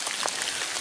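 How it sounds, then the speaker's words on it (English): Raindrops patter steadily in rainy woods on a cool day, a dense, even spray of soft ticks with a few slightly louder drops, close by and continuous. "Raindrops."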